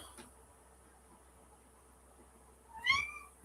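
A cat gives a single short meow near the end, after a faint tap, in an otherwise quiet indoor room with a low background hiss.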